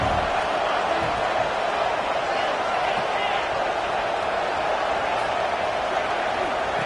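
A football stadium crowd roars steadily through a red-zone defensive stand in a Cornhuskers playoff game, a dense, loud, continuous wall of cheering with no break and play-by-play commentary faintly beneath it.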